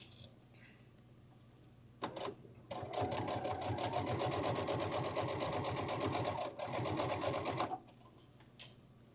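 A sewing machine fitted with a walking foot stitches through thick fabric layers for a clutch bag, running in a steady fast rhythmic whir for several seconds after a brief start, then stopping. The sound is close and clear.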